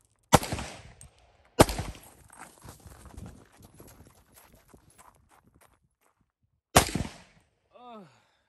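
Honey Badger rifle shots fire three times, spaced apart, each a sharp loud crack followed by a clattering tail of fainter knocks, ending with a short rising electronic tone.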